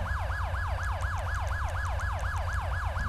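Wailing police siren from a South Carolina Highway Patrol car in the LSPDFR police game, a steady, rapid rising-and-falling wail that cycles about every quarter second, loud and continuous over a low engine rumble, with no talking.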